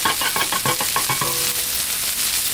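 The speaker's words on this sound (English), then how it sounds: "we're going to go ahead and throw some butter on here and do our eggs. Throw on some bacon up." Butter and bacon sizzle on a Blackstone griddle, a constant bright crackling hiss with a few scraping stirs near the start, close and alone.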